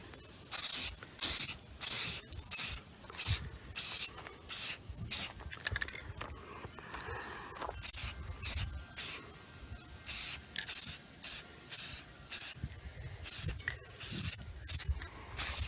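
Repeated short bursts of an aerosol can spraying satin midnight blue paint onto a Corvette steering wheel, about twenty hissing puffs in a steady rhythm, close and fairly loud with no talking.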